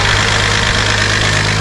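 An engine being broken in runs hot and loud at close range. It holds a rough, steady idle with a heavy low hum and a rattling, knocking texture, and no voices are heard over it.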